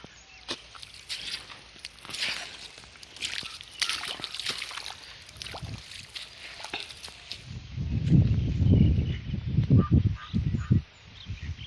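Water from a solar-powered pump sloshes and trickles steadily onto garden plants, growing fuller and louder near the end, with occasional sharp honk-like calls nearby.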